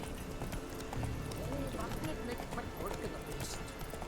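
Horse hooves clip-clopping at a steady trot in the video game Witcher 3, a rhythmic patter running through the clip beneath game ambience and a voice.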